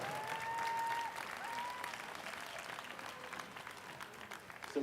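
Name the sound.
audience applause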